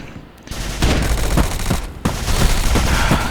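Rapid automatic gunfire in the Bullet Force video game, dense and loud bursts of shots that break off briefly and resume.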